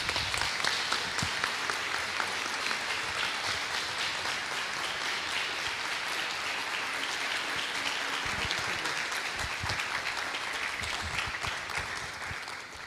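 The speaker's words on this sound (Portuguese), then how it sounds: "queria convidar você a se colocar de pé e recebê-los com uma forte salva de palmas" A church congregation on its feet applauding to welcome two speakers, a loud, dense, continuous wave of clapping that fills the room from start to finish.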